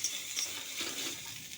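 Shidol, a fermented fish, hitting a hot frying pan already holding chopped green chilli and garlic, giving a steady soft hiss of sizzling with faint stirring scrapes throughout.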